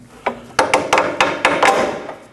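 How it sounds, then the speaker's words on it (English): Metal pry bar working a sway bar link out of the lower control arm on a 2003-2008 Subaru Forester, a sequence of about eight sharp metallic knocks and clunks in uneven rhythm, loud and close, with no talking. "You can just take a pry bar and"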